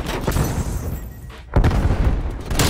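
Loud booming shotgun blasts from a pump-action in Call of Duty Black Ops Cold War multiplayer, one heavy report just past midway over continuous dense game noise and other gunfire.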